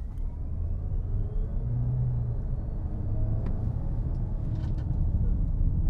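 MG EHS plug-in hybrid car accelerating from the cabin, a steady low engine and road rumble that swells slightly, with a rising electric whine running underneath throughout.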